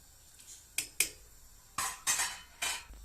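A spoon stirs washed apricots into a pot of aşure, giving five sharp clinks and scrapes against the pot in two quick groups, close and fairly quiet, with no talking.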